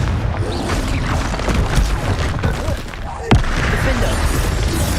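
A Confringo spell in Hogwarts Legacy goes off as a sharp explosive crack, standing out from a busy battle backdrop of rumbling effects and combat noise.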